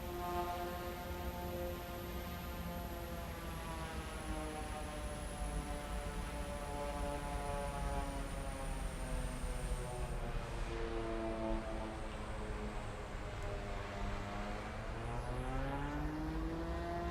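A simulated aircraft taxis in Microsoft Flight Simulator 2024, its engine giving a steady multi-tone drone that rises and bends in pitch as the throttle changes, moderately loud with no talk over it.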